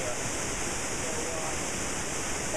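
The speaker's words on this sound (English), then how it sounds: "The waterfalls down there." A waterfall on a Puerto Rico river gives a steady, even rush of falling water, a fairly faint wash of noise that holds unchanged throughout.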